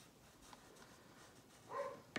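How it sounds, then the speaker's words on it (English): Soft, faint scratching of a drawing tool on paper while a llama outline is darkened, with a slightly louder stroke near the end and no voices. "I'm gonna draw it a little darker"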